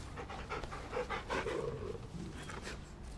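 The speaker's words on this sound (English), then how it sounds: "We pet the puppy." A dog pants rapidly and rhythmically while being petted in the video game Final Fantasy XVI, close and fairly quiet, heard alone without talk.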